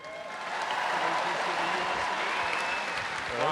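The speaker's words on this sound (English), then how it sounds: "Deserves a round of applause." An audience at the 2016 World Deadlift Championships applauds after a lifter's attempt, a steady wash of clapping from a large crowd, sustained and fairly loud throughout.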